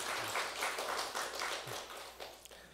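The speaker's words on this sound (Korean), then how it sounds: "박수 한번" A church congregation applauds during a joint worship service. The clapping is faint and distant, a soft patter of many hands that fades out over about three seconds.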